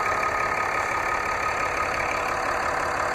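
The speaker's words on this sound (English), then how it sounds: "It is powered by the 24-valve turbocharged Cummins turbo diesel inline six-cylinder engine." A 24-valve turbocharged Cummins inline six-cylinder diesel in a 2016 RAM 2500 Heavy Duty Laramie Mega Cab 4X4 idles with a loud, steady, close rumble and a faint ticking clatter, with no talking.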